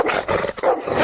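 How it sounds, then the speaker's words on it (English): A big dog barks and growls loudly in a rough, distorted burst, played as a radio sound effect, filling the short moment alone with no talk. "that's a mighty big dog you got there"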